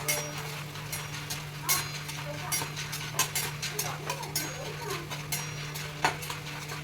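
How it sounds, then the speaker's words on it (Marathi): Popcorn kernels being stirred in hot oil with salt and turmeric, giving repeated scraping and clinking of a utensil against the pan over a steady low hum, with no talk. "मी त्याच्यात पॉपकॉर्न घालते. मस्त त्याला हलवून घेते, परतून घ्यायचं आहे त्याला."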